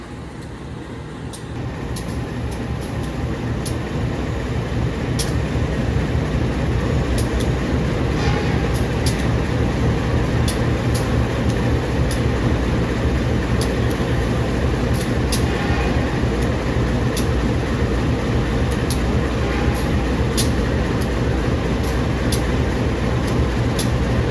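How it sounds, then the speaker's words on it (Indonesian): An electric commuter train departing a station rumbles steadily for a long stretch, a continuous low roar with faint rhythmic clicks of wheels on track, fairly close. "Terus di sana ada KRL baru berangkat menuju ke Solo."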